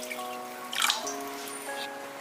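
Water poured into a soup pot of simmering ingredients, a soft trickling splash that swells briefly near the middle and then settles into faint dripping, with no talk.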